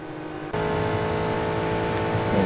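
Race car engine in Real Racing 3 jumps to a sustained steady high-revving drone at full throttle after a short quieter start, loud and close throughout.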